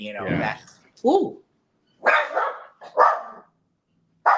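Dogs bark in several loud, separate bursts with short yips and pauses, close by in a quiet room after a loud boom.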